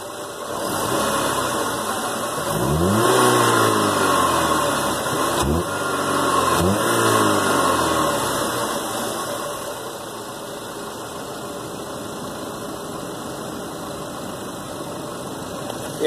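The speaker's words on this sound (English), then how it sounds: "I can rev the engine from the engine side." A Chevy pickup fitted with a custom cold air intake, kept stock air box and roof cap, revs in several rising and falling bursts over a steady idle, close and fairly loud, with no talking.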